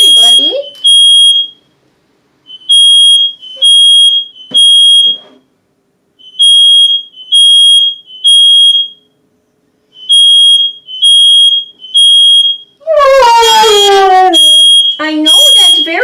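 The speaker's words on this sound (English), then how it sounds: "everyone gets to hear my fire alarm." Home smoke alarm chirping in loud repeated bursts of three high beeps with pauses, close by, while a dog whines and yelps near the end.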